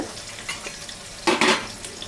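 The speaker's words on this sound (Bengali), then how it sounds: "প্রথমে আমি এটার মধ্যে পেঁয়াজ ছেড়ে দেব" Onion frying in a pan as liver bhuna for Bengali cooking begins, a low sizzle with a few stirring scrapes and a louder burst of clattering about halfway, without any speech.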